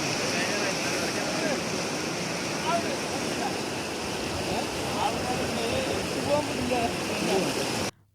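The flooded, fast-flowing Chittur river rushes with a steady, loud broadband roar of water that continues without a break until it cuts off abruptly at the end.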